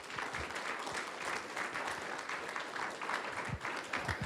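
A crowd applauds with dense, continuous clapping that holds steady throughout, fairly close and loud.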